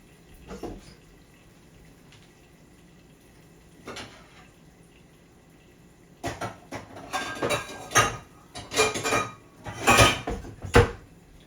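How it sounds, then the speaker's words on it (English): A pasta pan is grabbed in a home kitchen, giving a few sparse metallic clinks at first, then a denser run of clanks and rattles of cookware near the end. "Just grabbing a pan for pasta."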